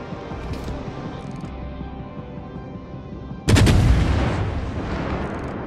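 Main guns of the Japanese destroyer Akatsuki fire in a World of Warships naval battle: a single loud, close boom bursts suddenly out of steady engine and sea rumble, then rolls and fades over several seconds.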